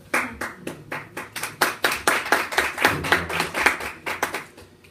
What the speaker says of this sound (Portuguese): merece neste momento um aplauso